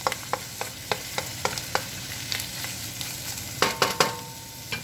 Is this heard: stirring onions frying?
yes